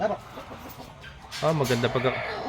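A Rhode Island hen on a farm gives a few low clucks, with people talking nearby partly over the bird.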